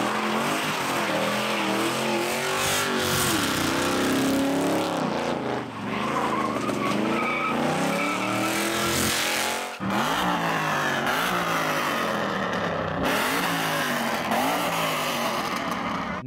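A car drives and accelerates hard, the engine note climbing through repeated rising sweeps with gear-change breaks between them, loud and close with tire noise, no talking.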